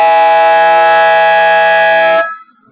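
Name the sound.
basketball game-end buzzer ending the third quarter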